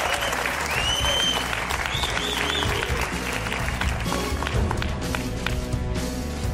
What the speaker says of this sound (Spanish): que se sienta de nuevo el aplauso